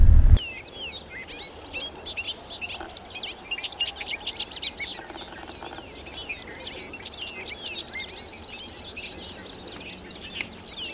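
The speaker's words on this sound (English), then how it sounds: "There's winter wren singing away back there." High, rapid winter wren song trills and twitters continuously from a distance in Michigan's Upper Peninsula, a long tumbling warble over faint outdoor ambience, after a brief thump at the start.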